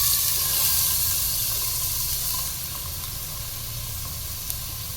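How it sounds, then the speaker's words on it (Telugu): Oil sizzling steadily in a pan with onions frying, a loud continuous hiss that eases slightly partway through, with no talking. "ఇప్పుడు ఆయిల్ వేసుకుందాం. ఇప్పుడు ఉల్లిపాయలు వేసుకుందాం."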